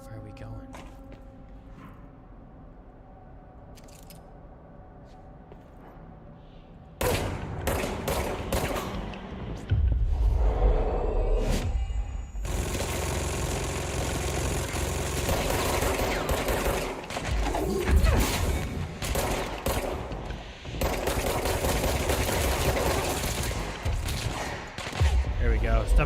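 Gunfire from the video game Control: a long stretch of dense automatic bursts and fusillades, loud and close, broken by brief lulls. It follows a quieter opening with background game ambience.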